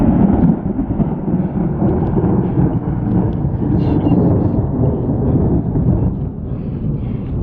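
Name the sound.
thunder during mountain lightning storm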